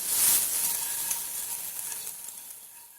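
Hard-boiled eggs frying with spice powder in a pan, a steady bright sizzle with light stirring that eases off over a few seconds, no talk.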